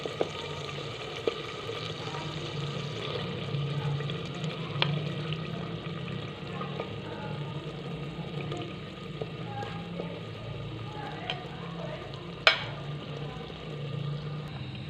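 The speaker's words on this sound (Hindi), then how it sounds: "अब हम इसे 4 से 5 मिनट के लिए अच्छी तरह भून लेंगे" Fried chicken sautéing in masala in a pan while making Madrasi chicken, a steady close sizzle and hiss running throughout with a few faint utensil clicks.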